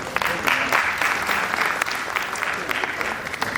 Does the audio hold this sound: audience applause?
yes